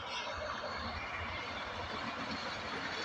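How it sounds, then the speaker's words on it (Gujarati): A train passes nearby in rural farmland, a steady continuous rumble and rolling roar with no break. "ટ્રેન નીકળી છે. રેલગાડી નીકળી છે બહાર."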